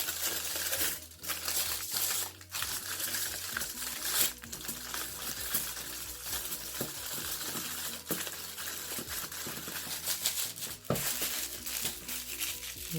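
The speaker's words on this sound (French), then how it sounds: "je vais utiliser le papier aluminium pour empêcher l'eau d'entrer dans ma préparation pendant la cuisson" Aluminium foil crinkles and crumples continuously as it is folded around a cassava-stick preparation for boiling, with sharper crackles now and then and no talk.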